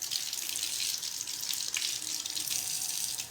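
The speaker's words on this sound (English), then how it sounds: "I gotta wash my hands now" A water tap running steadily into a sink while hands are washed, a continuous close splashing hiss with small fluctuations and no talking.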